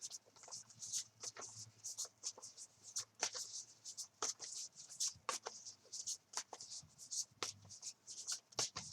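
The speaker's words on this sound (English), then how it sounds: "let's go ahead and shuffle." A deck of animal spirit cards shuffled by hand in a quiet room, soft repeated riffling and flicking with brief sharp card snaps, close and fairly faint.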